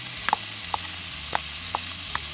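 Bacon frying until crisp in a Dutch oven outdoors on a terrace, a steady low sizzle with a few faint pops and taps spread across a short stretch, fairly quiet and close, no voices.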